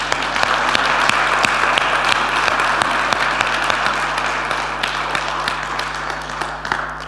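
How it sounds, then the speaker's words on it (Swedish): A church congregation breaks into loud, sustained applause for a young man called up to the front, dense clapping filling the hall for several seconds with a low steady hum underneath. "Ge honom en applåd."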